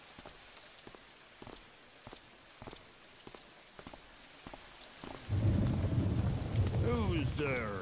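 Steady rain in the video game Thief patters throughout, with light rhythmic taps in the foreground; a louder rumbling swell and a voice join in the last few seconds.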